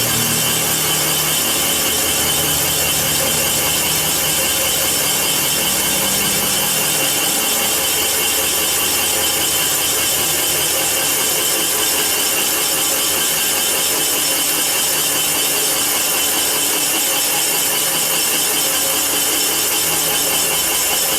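A Comec CNC machine cuts a high-grade iron engine block during engine reconditioning, producing a steady, loud, harsh grinding and whirring that holds constant without pause throughout.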